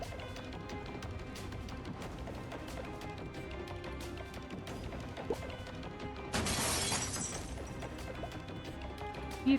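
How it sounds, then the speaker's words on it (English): Car front window glass is smashed in a game scene, a sudden loud crash and shatter bursting up mid-way through steady low ambient noise and music-like drones, lasting under a second. "You forcefully broke the front window glass."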